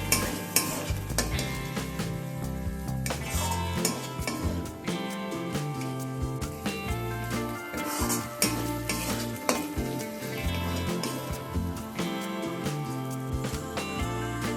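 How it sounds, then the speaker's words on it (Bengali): Mutton fat fries with spices in a pan over low to medium flame, with a steady soft sizzle and occasional stirring scrapes under fairly prominent background music. "প্রায় 2 থেকে 3 মিনিট সময় নিয়ে আমি মাটনের চর্বিগুলোকে একটু ভেজে নিয়েছি।"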